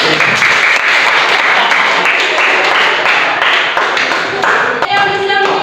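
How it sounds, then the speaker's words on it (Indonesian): Students in a classroom clap loudly and close by in a steady, dense burst of hand claps that fills the space, with voices rising at the very end. "Tepuk tangan."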